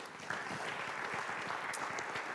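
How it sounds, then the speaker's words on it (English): An audience at a conference plenary session applauds its panelists, dense even clapping that holds steady for the whole stretch with no voices over it. "If you could clap for them."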